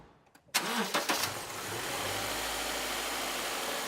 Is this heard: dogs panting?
no